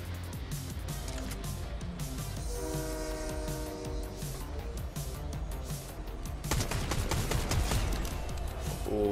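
A train rolls along with steady rumbling and clatter, a horn sounding midway, then the rolling noise grows louder near the end, in the video game Fortnite.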